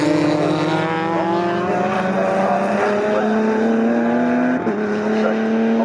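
A race car at Snetterton, in a CSCC New Millennium or Open Series race, holds a loud, steady, droning engine tone as it enters the pit lane, its pitch shifting slightly with a brief blip near the end.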